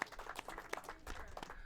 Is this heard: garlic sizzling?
no